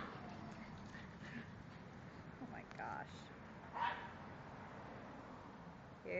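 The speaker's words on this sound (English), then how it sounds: "My crazy puppies?" Puppies give a few faint, scattered yips and barks in the distance, with people talking over a noisy background.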